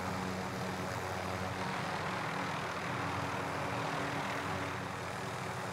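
A propeller aircraft engine drones in the video game Warzone, a steady, loud, broadband roar with a low hum that holds constant for several seconds, no voices.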